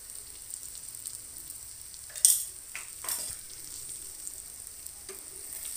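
A spatula slowly turns a stuffed bitter gourd and garlic-chili mixture in a pan over a soft, continuous frying sizzle, with a couple of sharper scrapes and clinks standing out near the middle and no talking.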